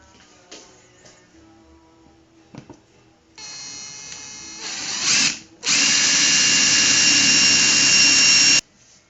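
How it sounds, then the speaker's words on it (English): A power drill with a 3/32-inch bit pilots holes for drywall screws in wood for a lazy Susan bearing: a short whining burst, a brief pause, then a longer, louder steady whir up close before it cuts off. "I normally pilot drywall screws with a 1/8-inch drill bit, but this time I'm going to use a 3/32"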